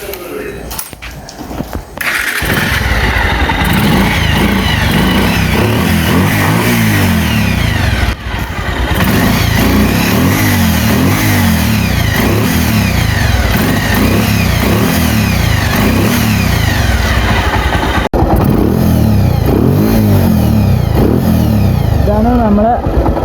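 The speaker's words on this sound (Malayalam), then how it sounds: "ഈ വണ്ടി ഒന്ന് ഓണാക്കി നോക്കാം" A Bajaj Pulsar motorcycle fitted with an HP air filter runs loud and close, its engine revved in repeated rising bursts over a steady idle throughout.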